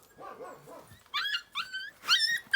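Dogs bark and yip in short, high, excited bursts, several calls in quick succession at moderate distance, with a soft whimper at the start.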